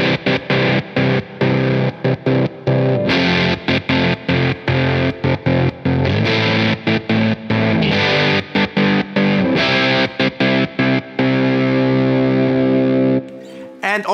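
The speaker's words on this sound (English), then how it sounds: "turn on a fuzz, and you could use this to turn off and on your sound like this." Fender Jazzmaster electric guitar through a fuzz pedal, a thick distorted sustained tone repeatedly chopped into short bursts and gaps as the volume knob is switched off and on in a choppy stutter rhythm, loud and close.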